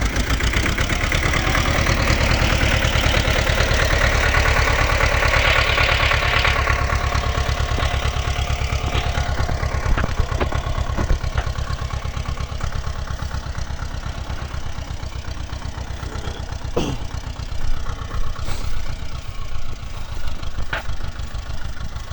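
A T-25 tractor with a plough works a field in winter, its engine giving a steady, loud, continuous drone throughout, with no talk.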